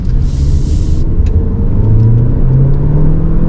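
A 185 hp Omoda 5 Premium SUV engine drones steadily and loudly, its pitch climbing gradually as it revs, with a brief hiss near the start.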